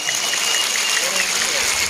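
Crowd applause at a Republic Day (29 October) celebration honoring a gold medalist, a steady wash of clapping sustained throughout, with voices mixed in.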